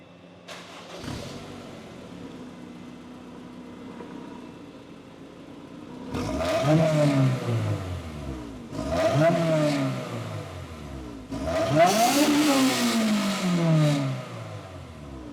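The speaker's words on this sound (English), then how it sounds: "we just wanted to get a little bit of a pre-new exhaust sound" A Honda S2000 engine with stock exhaust revs three times in quick bursts, each rising then falling, with a deep exhaust note that grows louder on the final rev.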